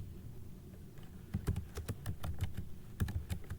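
A command is typed on a computer keyboard, with quick bursts of close, crisp key clicks and short pauses over a low background hum.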